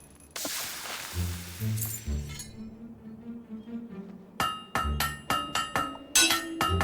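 Blacksmithing at a forge in Fable 3: a hammer rings against a blade in a series of sharp metallic strikes with bright ringing tails, following a stretch of low rumble and a hissing swell.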